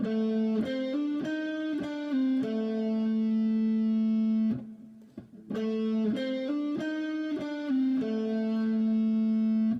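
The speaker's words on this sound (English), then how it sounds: "we're going to add a hammer on and a pull off on this lick" Electric guitar plays a short repeating lick using hammer-ons and pull-offs, giving smooth slurred note changes, played twice with a brief gap between, slightly distorted tone.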